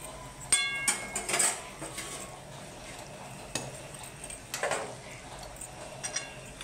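Pot of potol chingri, a pointed gourd and prawn curry, being lifted off the stove: faint clinks and scrapes of metal cookware and utensils, sparse and quiet, in a home kitchen.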